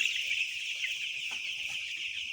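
Domestic chickens on a small farm, dosed for dysentery, cluck softly and continuously with a steady background hiss and no talking.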